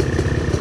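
A dirt bike engine runs loud and close on a muddy trail in Zamboanga City, a steady rough mid-pitched drone with a slight pulsing throb and no speech.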